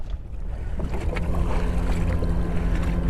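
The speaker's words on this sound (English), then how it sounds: "Y'all ought to be able to hear that wind noise now." Steady rushing coastal wind at Galveston buffets the air with constant low rumble, broad and continuous throughout, with some faint knocks over the top, heard while fishing from a boat.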